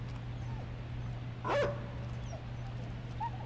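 In the video game Inside, a chasing dog gives a single brief bark or yelp midway through, standing out over a steady low hum and dark ambient game sound.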